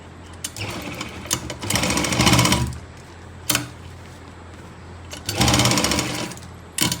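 Overlock sewing machine stitching the seam of a palazzo pant, running in several loud rapid whirring bursts separated by short pauses and a few sharp clicks.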